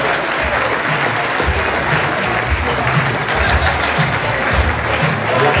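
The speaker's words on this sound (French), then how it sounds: "On peut applaudir Mathieu encore très très fort." A convention audience gives magician Mathieu loud, sustained applause, a dense wash of clapping from a large crowd that holds steady throughout.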